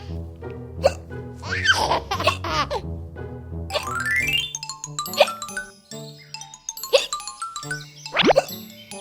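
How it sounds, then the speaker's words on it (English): A cartoon character hiccups repeatedly in sharp, spaced little gulps over bright tinkling music, loud and close, with no talk. "It's like someone has the hiccups."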